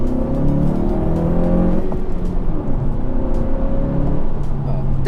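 A 2017 Honda Civic Si with a very small turbo engine drives along a back road, its engine hum steady and close with some rising revs, no one talking over it.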